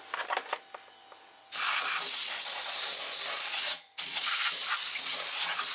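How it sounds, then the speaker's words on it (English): Compressed air blasting dust off Hanway Fighter 125cc motorcycle parts: after a few soft clicks, a loud, harsh continuous hiss, a brief cutoff, then another sustained blast, very close. "I gotta blow it away with some compressed air"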